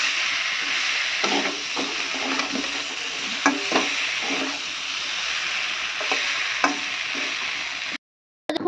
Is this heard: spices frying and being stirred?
yes